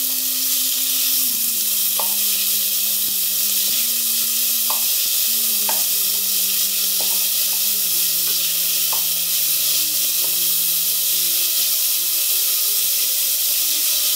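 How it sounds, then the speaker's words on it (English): White onion softening in olive oil in a pan, a loud, constant hissing sizzle close up, with faint light taps of stirring and a low steady hum underneath, no voices. "And then to the pan, I'm going to add in my white onion and just soften this down."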